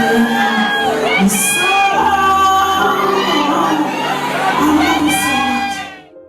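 Loud, sustained cheering and whooping from an adoring crowd at a performance, with a singing voice threading through the roar before the noise fades away at the very end.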